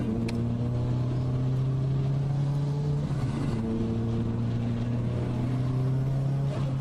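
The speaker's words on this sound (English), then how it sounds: "It seems he forgot our instructions about not drifting over the bridge." A small HPI RC drift car whines steadily at close range, its motor note holding high and even with a brief dip and rise midway, continuous throughout with no talking.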